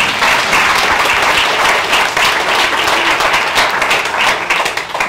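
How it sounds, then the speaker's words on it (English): A church congregation at a Sunday service in East Kilbride claps loudly and steadily, dense applause filling the room for the whole stretch. "I think that deserves another big clap"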